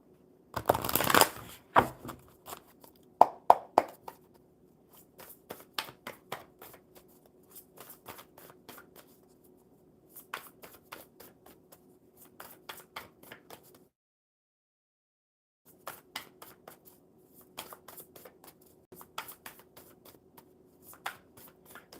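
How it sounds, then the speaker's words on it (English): Tarot cards are riffled and shuffled in repeated bursts of crisp flutters, with a brief louder clatter at the start and a short pause partway through, close to the microphone over a faint steady hum. "One more good shuffle for Amanda."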